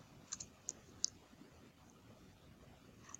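Computer mouse clicks on a quiet desk, a few sharp close taps in an uneven cluster early on and one more near the end, faint against soft room noise.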